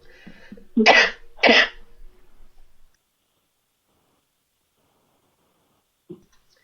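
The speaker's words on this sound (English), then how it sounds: "I'm going to have a coughing fit" Two sharp, forceful coughs close by after some faint rustling, followed by quiet and a soft click.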